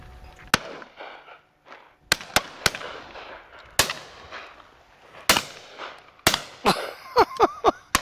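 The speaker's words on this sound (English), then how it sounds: "Nice shot up there on that pheasant." Shotgun shots ring out at driven pheasant on a shoot day, about eight sharp cracks spread irregularly and with some in quick pairs, each echoing briefly across open country, followed by a few fainter popping reports near the end.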